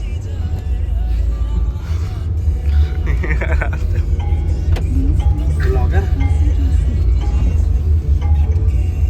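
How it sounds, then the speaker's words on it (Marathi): Inside a moving Tata Nexon with a turbocharged engine, a steady low rumble of engine and road noise runs throughout, while people talk in the cabin over it. "नेक्सॉन गाडी आहे."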